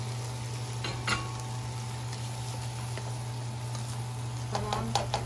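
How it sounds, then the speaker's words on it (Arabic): Shrimp frying in butter in a pan, a steady close sizzle with a few faint utensil clinks and light crackles, no talk. "هبدأ أنزل كل الجمبري اللي معايا في الحلوة"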